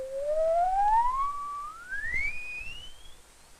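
An electronic oscillator sends out a pure whistling tone that glides steadily upward from moderately high to very high pitch, holding briefly at a few steps, with faint low thumps underneath.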